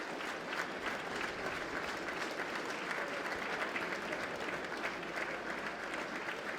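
Football supporters in a stadium at a Wrexham AFC match applauding a substituted player, a steady, distant wash of clapping from the crowd that holds evenly throughout.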